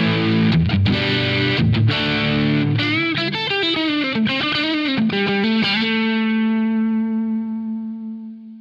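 Electric guitar played through a Boss OD-200 overdrive pedal in Bluesdriver mode, ringing out a run of driven, sustained notes and chords that ends on a held note slowly fading out, with no talk.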